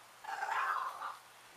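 A dog gives a single drawn-out whining bark, a strained yelp-like sound lasting about a second, at moderate distance against a quiet room with no talking.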